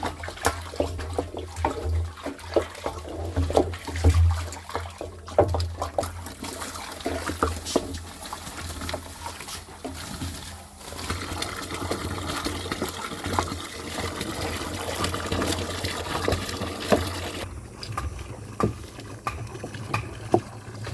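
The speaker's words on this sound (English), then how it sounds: "we keep stirring it so that all the ingredients get mixed up quite nicely" A stick or paddle stirs Jeevamrut, a liquid farm mixture, inside a drum, making steady sloshing, swirling water sounds that continue up close throughout.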